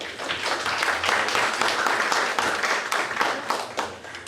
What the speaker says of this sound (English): Take a round of applause